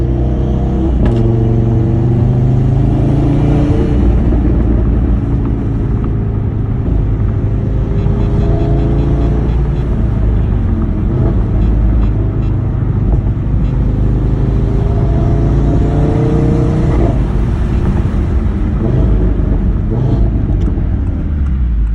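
A 2018 Audi TT RS engine revs steadily and loudly close by, with rising and falling pitch as throttle blips match revs between gear changes, continuous for about twenty seconds with no talk.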